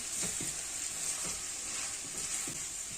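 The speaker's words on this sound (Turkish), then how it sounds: "Bununla da şöyle biraz karıştıracağım." Red pepper paste is stirred into chicken, vegetables and mushrooms sautéing in a pan: a constant bright sizzle with a few soft stirring knocks, close up and without talk.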